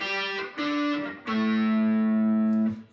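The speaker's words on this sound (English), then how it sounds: "I've got a little distortion dialed into my Boss Katana amp" Distorted electric guitar octaves through a Boss Katana amp: three sustained notes picked in turn, each ringing out under a thick overdriven tone.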